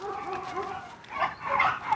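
A dog during tug play training gives short whimpering, yipping vocalizations, close and fairly loud, in a few bursts with brief pauses between them.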